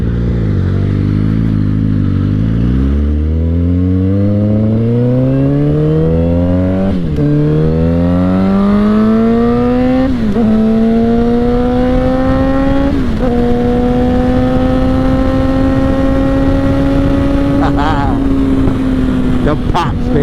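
A Suzuki GSX-R 750 sport motorcycle revs up through several gears, its engine note climbing and dropping at each shift, with loud exhaust pops and crackles near the end, close and dominant.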